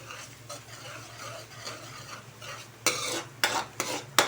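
Garlic and onion sautéing in a pan with a soft continuous sizzle, then louder scraping strokes of a spoon against the pan near the end, close and alone without talk.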